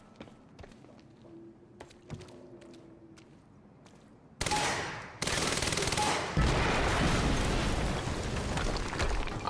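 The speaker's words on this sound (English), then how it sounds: "HQ, we just heard an explosion near the harvesting perimeter." A blast from an explosion in the video game Quantum Break, followed by a sustained dense roar of rapid gunfire, loud and continuous after a quieter stretch of scattered clicks and thuds.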